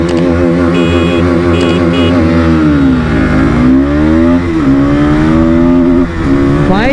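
A Bajaj Pulsar NS200 and a Yamaha R15M Carbon Edition race side by side in a drag race, their engines screaming loud and close, with pitch climbing, dropping at gear shifts, then climbing again.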